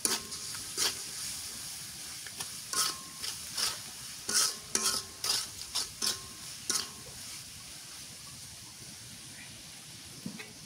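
Spices with turmeric powder and salt being stirred and fried in a pan, a quiet sizzle under a series of rhythmic scraping stirs that cluster in the middle and then trail off.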